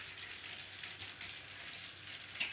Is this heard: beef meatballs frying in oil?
yes